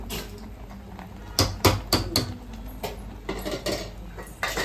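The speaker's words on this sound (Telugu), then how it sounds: "ఇలా మటన్ని కలబెట్టుకోవాలండి" Mutton curry being stirred in a pot, heard as sharp metallic clinks and scrapes of a spoon against the vessel in uneven bursts, close up, over a low background hum.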